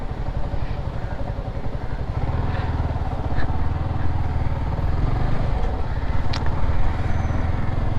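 A Yamaha R15 v3 motorcycle ridden near Cochin Fort gives a continuous, close, low engine drone that swells slightly partway through and holds steady to the end.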